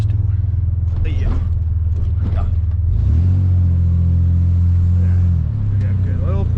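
Pickup truck engine idling steadily after a fuel pump repair, a close, continuous low rumble with a brief rise in revs midway, heard from inside the cab while a voice talks over it.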